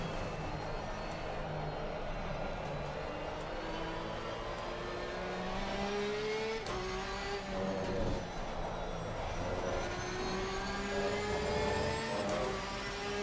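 Race car engines drone steadily at Spa in a racing video game, several tonal whines rising and falling as cars shift gears and pass, a continuous loud mechanical hum with no talk.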